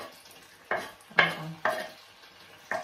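Sliced boiled eggs drop into a hot frying pan, bringing several short sizzling bursts with stirring and scraping between them, close and fairly quiet, with no talking.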